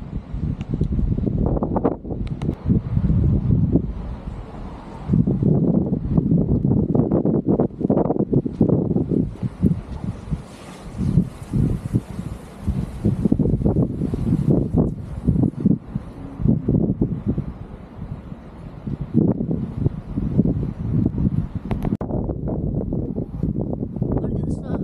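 Strong wind gusts across Yassıada island, buffeting the microphone in rumbling bursts while people talk throughout.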